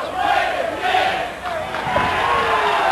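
A wrestling crowd at an NWA TNA weekly pay-per-view event cheers and chants in loud, continuous waves, a dense roar of many voices filling the arena with rising and falling swells.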